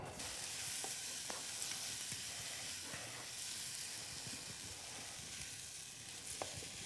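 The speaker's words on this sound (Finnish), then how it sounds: "Nyt kun riisit on kuulotettu, heitetään sinne joukkoon sipulit ja valkosipulit kuulottumaan." Rice, onions and garlic sauté in a pan, giving a steady close frying sizzle and hiss with occasional soft scrapes from stirring, and no talk throughout.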